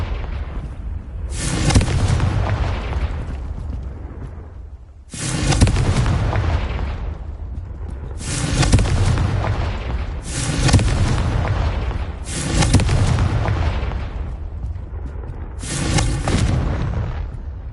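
Confringo fire-spell explosions in the Hogwarts Legacy video game: six heavy booming blasts about every two to three seconds over a constant loud rumbling roar.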